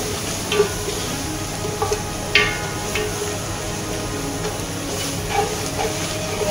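Chicken kabsa spices, Arabian masala and filfil bahari, fry in a pan with a continuous hiss, while a spoon stirs them with a few sharp scraping knocks close by.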